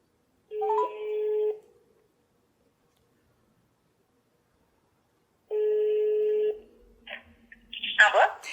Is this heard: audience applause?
no